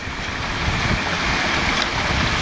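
Garden waterfall tumbling over weathered limestone rocks into a pond, fed by a 1 horsepower swimming pool pump; a loud, steady broadband rush of falling water with nothing else over it.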